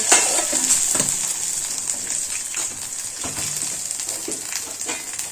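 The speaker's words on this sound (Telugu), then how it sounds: "మిరపకాయలు అవి చిటపట్లు ఆడుతున్నప్పుడు కరివేపాకు కొంచెం పసుపు అంతే తాలింపు" Tempering for a jowar dosa and peanut chutney meal: green chilies and curry leaves spluttering in hot oil, a bright continuous sizzle with scattered pops and crackles, close and fairly loud, no voices.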